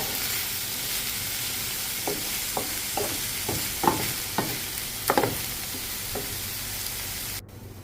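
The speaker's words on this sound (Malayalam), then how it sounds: "ഇടയ്ക്കിടയ്ക്ക് മൂടി തുറന്ന് നമുക്ക് ഇളക്കി കൊടുക്കാം" Drumstick leaf thoran cooking in a pan, stirred in a run of soft scraping strokes over a low, steady sizzle, close and fairly quiet, ending abruptly.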